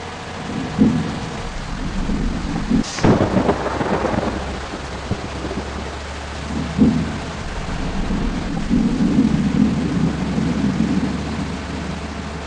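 Steady rain and rumbling thunder in the Bus Simulator Indonesia video game, with a sharp thunderclap early on and softer rolling rumbles over continuous downpour.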